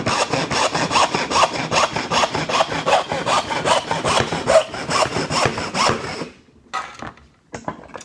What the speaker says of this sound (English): with the pistol grip, I'm going to start cutting straight down into the wood.